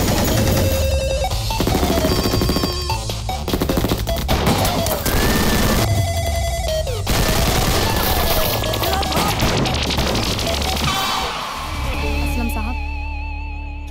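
Gunfire in a Hindi comedy film scene: dense, loud bursts of shots and crashes layered with music and effects, with a sustained tonal tail toward the end.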